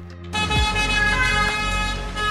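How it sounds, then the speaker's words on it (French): Noisy, congested car traffic on rue de Bagnolet in Paris: a loud steady roar of engines with a horn-like tonal blare running throughout, close and dense. "Une rue polluée, bruyante et toujours encombrée"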